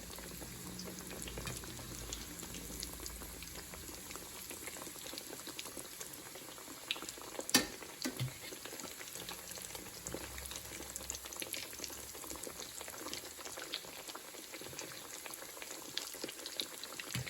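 Eggplant slices fry in hot oil with a faint, continuous bubbling sizzle. One brief sharp clink sounds midway, and no one talks.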